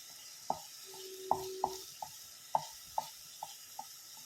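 A spoon taps and scrapes through chicken roast with tomatoes and spice powder in oil, making a sparse series of sharp, close knocks on the pan with a faint sizzle beneath.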